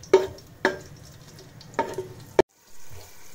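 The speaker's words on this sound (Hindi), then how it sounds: "इसे थोड़ा हमें फ्राई कर लेना है" Black pepper, bay leaf, cinnamon pieces and green chillies fry in a pan, giving a soft sizzle punctuated by four sharp clacks and scrapes of stirring, then a short quiet spell and a faint low rumble.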